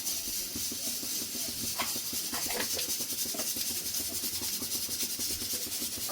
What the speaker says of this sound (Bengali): দিয়ে দিচ্ছি কালো জিরে